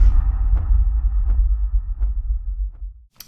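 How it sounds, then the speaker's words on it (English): A deep booming impact hit from a deep house track's second drop, heavy sub-bass swelling and slowly decaying over three seconds with faint rhythmic ticks on top, then a sharp burst at the end. "on the run of the second drop we have this impact sound"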